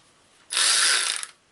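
A Snap-On ratchet gives one loud burst of rapid clicking, close up, lasting under a second with no other sound around it.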